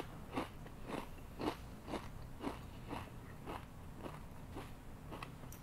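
Close, crisp crunching of ketchup-flavored potato chips being chewed, about two bites per second in a steady rhythm with no talking.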